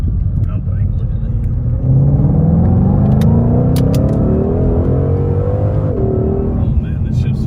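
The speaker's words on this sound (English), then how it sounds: "this shifts fast when you do manual shift" A 2020 Ford Shelby GT500 accelerates hard in manual mode, its loud engine note rising steadily through a gear and dropping sharply at the shift, all heard from inside the car with a constant low rumble.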